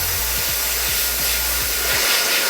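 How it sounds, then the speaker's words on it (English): Hair dryer on its hot setting blowing a steady, loud broadband rush of air, with a low motor hum that pulses in faint regular beats, used to warm adhesive tape. "I'll take a hairdryer first, turn it on hot air"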